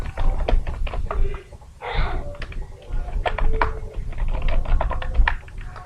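Quick bursts of keyboard typing as a name is entered into a website sign-up form, with clustered clicks, short pauses and a soft swish between keystroke runs, close and dry with no voices.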